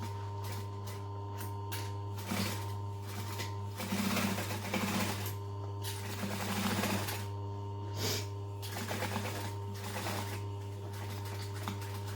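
A sewing machine stitches a tote bag slowly in short runs, rapid needle clatter rising and pausing over a steady low motor hum, with backstitching bursts, close and clear.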